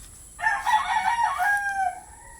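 A chicken gives one drawn-out, rising-and-falling crowing call lasting about two seconds, fairly close, over quiet background hiss.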